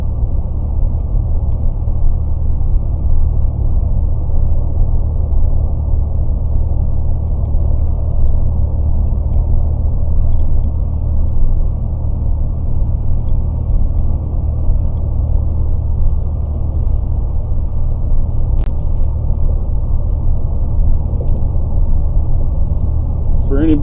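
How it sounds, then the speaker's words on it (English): A car drives through heavy snow on a highway near Boise City in the Oklahoma Panhandle, a steady low engine and road rumble with muffled whir that stays constant throughout, with no clear voices over it. "here comes another heavy band of snow we're driving into"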